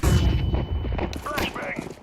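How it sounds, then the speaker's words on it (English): A flashbang grenade in Counter-Strike 2 goes off with a loud boom at the start, followed by ringing and scattered game noises, with a voice talking over the end. "Flashbang."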